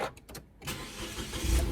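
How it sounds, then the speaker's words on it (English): A 2014 Nissan Note's engine starts up close by: a brief crank, then the motor catches and settles into a low, even idle. "we're just gonna start the car and allow it to run for maybe 5 or 10 minutes"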